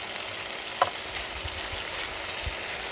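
Lunch frying in a pan on an induction cooker running from a lithium battery and inverter, a steady close sizzle with occasional faint stirring clicks.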